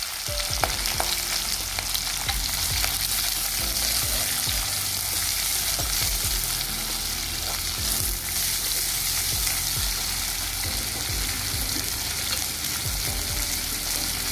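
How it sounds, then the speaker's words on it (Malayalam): Onions sautéing in a pan for a Kerala okra curry, a steady loud sizzle and crackle of frying with repeated scraping stir strokes throughout, no voices. "നമുക്ക് സവാളയും കൂടെ ഇതിലേക്ക് ചേർത്ത് വഴറ്റാം"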